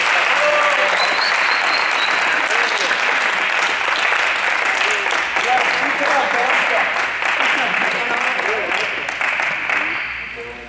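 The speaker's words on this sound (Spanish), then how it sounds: "¡Aplauso!" Audience applause at a pirate-themed gymkhana, dense and loud, sustained for about ten seconds and then tapering off at the end.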